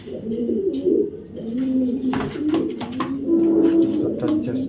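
A Taiwanese racing pigeon coos in soft, repeated low throaty phrases close by, while someone talks over it.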